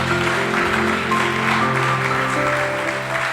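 A congregation applauds and cheers at the close of a speech at a church gathering, a steady, dense wash of clapping throughout.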